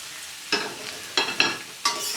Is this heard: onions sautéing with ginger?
yes